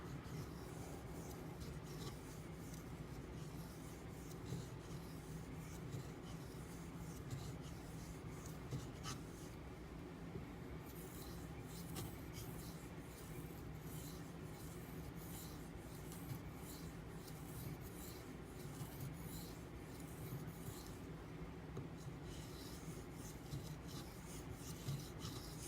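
Steady scraping rasp of a knife blade drawn back and forth across a Nubatama Bamboo 6k whetstone, continuous and fairly close, with no talking over the rhythmic strokes.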